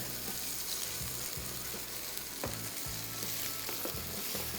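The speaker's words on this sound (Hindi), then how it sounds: "अदरक लहसुन शामिल कर दिया और इसकी भी थोड़ी सी करेंगे पहले बुनाई।" Ginger and garlic paste fries in a pot for dahi gosht, producing a steady, fairly quiet hiss of sizzling oil with occasional soft knocks and scrapes from a spoon.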